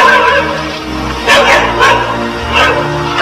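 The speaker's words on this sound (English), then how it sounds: "Dog wants to go in calico." A dog barks and whines close by in a few loud bursts over a steady tonal background, with some talk mixed in.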